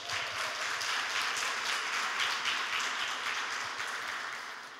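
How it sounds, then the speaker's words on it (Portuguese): Audience applause at a church gathering, a dense, steady crowd clapping that fills the whole stretch and fades slightly toward the end, with no voices over it. "Eu acho que vocês merecem uma salva de palmas."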